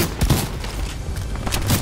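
A quick burst of rapid gunshots in the Fortnite game, loud and close, packed into under two seconds with almost no speech.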